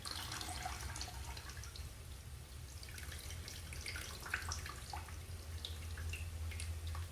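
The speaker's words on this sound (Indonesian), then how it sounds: "Kemudian kita tiriskan airnya." Soaked, softened glass noodles (soun) being drained of their water in a home kitchen, giving a steady close trickle and drip with scattered splashes, continuous throughout with no talking.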